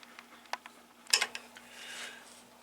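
A ratchet tightens bolts on the motor mount of a vintage Polaris Ultra triple snowmobile, giving brief metallic clicks and a quick ratcheting burst, close and moderately loud, with no talking.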